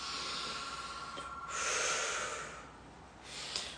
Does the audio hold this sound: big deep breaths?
yes